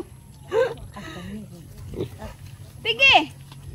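A pig on a pomelo farm grunts and squeals in short bursts, close by, mixed with people talking throughout.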